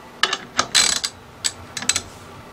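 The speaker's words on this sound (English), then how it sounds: "Let me use my ratchet so you can see it better." Ratchet clicking in short bursts while tightening a CVT transmission secondary pulley during a JF011E/RE0F10A rebuild, close and crisp with brief pauses between strokes.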